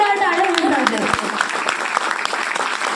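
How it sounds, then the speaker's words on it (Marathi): An audience applauds at a police icon award ceremony, a dense wash of clapping that rises under a voice at the start and then carries on alone, loud and close. "एकदा जोरदार टाळ्या वाजवते"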